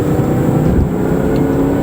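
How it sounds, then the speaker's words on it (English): A Range Rover Supercharged engine pulls hard under acceleration, a loud continuous roar heard from inside the cabin with a faint steady high whine layered over the rumble. "you still have a lot of pull from this engine"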